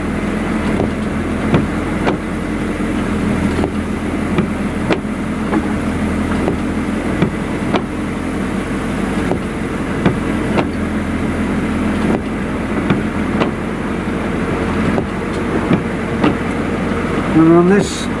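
A four-wheel drive vehicle crawling in its lowest gear, its engine a steady low rumbling drone with scattered knocks and rattles from inside the cab.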